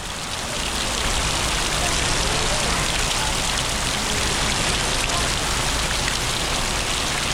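Steady, dense rain pours close by as a family bathes outdoors in it, a continuous hiss of drops striking surfaces with no breaks.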